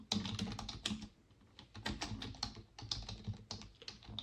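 Close, quiet clicking on a computer keyboard in quick bursts of keystrokes with brief pauses between them, alone without voices.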